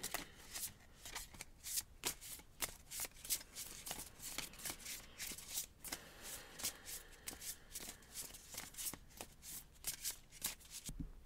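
An oracle card deck, the Wild Unknown Animal Spirit deck, is shuffled by hand in a steady run of close, crisp riffling and slapping card sounds that goes on for several seconds, with no talking.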